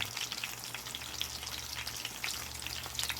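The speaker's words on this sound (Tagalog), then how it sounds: "Piniprito ko na ang tuna." Tuna steaks, three thick pieces seasoned with pepper and salt, sizzle and crackle steadily in hot oil in a pan, a dense continuous fry with a low hum beneath.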